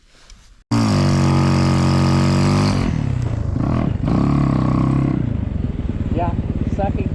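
A snow bike engine revs hard in second gear during a big snowstorm. It is loud and close, with a sustained roaring drone that shifts pitch partway through and then settles into a throbbing idle-like chug. Speech is faint beneath it.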